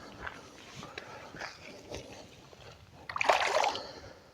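A small smallmouth bass drops back into the water, a short splash and slosh close by, with faint handling noises around it.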